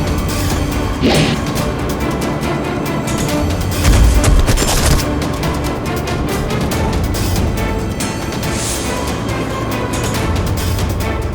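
Gunfire aimed at pigeons in a crime drama scene: a dense, loud volley of rapid shots and bangs, one heavier boom partway through, continuous and close with no voices.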